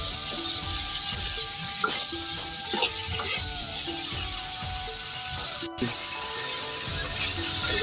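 Fried potatoes and cauliflower going into a karahi of well-cooked pea masala, with a steady loud sizzle and repeated stirring scrapes throughout, one brief dip near the end.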